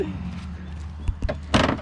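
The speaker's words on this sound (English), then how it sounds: "DJ, can you open my door for me?" A car door that is riding low on a car being prepared for engine removal opens with a couple of soft latch clicks and a sharper thunk, close by over a steady low hum.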